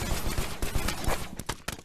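Pistol fire in the Rec Room battle royale game, a rapid string of sharp shots with loud transients, close and dense over a noisy in-game background.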